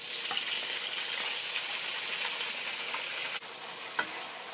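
Tofu frying in olive oil with minced garlic for a stir fry with bok choy, a loud, dense, continuous hiss that holds steady, then dips slightly near the end with a single clink.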